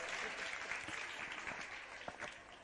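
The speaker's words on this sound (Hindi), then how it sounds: "तालियां बजाकर अनुमोदना" Applause at a temple worship ceremony at Chandragiri Tirth in Dongargarh: a crowd clapping steadily, dense and fairly distant, fading slightly toward the end.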